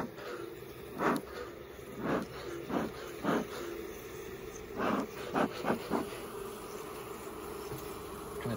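Honeybee swarm humming steadily inside an opened hive during swarm season, with scattered sharp knocks and taps from the hive work cutting through the low drone; no voices.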